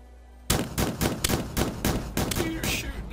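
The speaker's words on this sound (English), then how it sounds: "You're shooting the fish now." Rapid video game gunfire in Starbound while shooting fish in underground caves, a sudden start followed by a fast string of sharp, loud shots with no talk.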